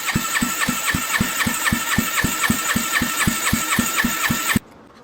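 A Kawasaki Ninja 500 engine cranking on the starter with a gauge fitted for a compression test: a fast, even, loud chugging pulse for about four and a half seconds that then cuts off abruptly.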